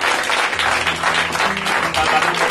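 A church congregation at a French-language prophetic service applauds and acclaims the Lord with steady, dense clapping. Crowd noise and a faint low musical hum sit underneath.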